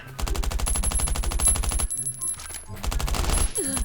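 Rapid automatic gunfire in the mobile survival game Last Island of Survival, a fast even stream of close loud shots, a brief pause, then another burst with a faint electronic tone behind.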